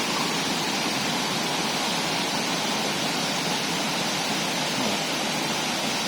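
Huai Mae Khamin, a multi-tiered waterfall in Srinagarind Dam National Park, Kanchanaburi, pours as a loud, unbroken rushing roar of falling water close by, steady throughout with no voices.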